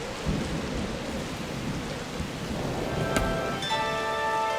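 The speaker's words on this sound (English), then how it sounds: "The storm raged with immeasurable force" Heavy rain hisses steadily in a Dungeons 4 thunderstorm, with low thunder rumbling beneath and a sharp crack near the end followed by a faint tonal ring.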